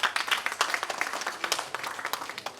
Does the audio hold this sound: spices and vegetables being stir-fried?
no